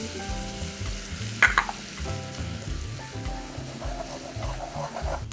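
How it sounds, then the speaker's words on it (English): Butter and flour sizzling together in a pan as a roux starts for a mac and cheese sauce, a close, steady frying hiss with stirring scrapes and no talking. "I'm gonna start by making a roux. I've got my butter. I'm gonna add in my flour."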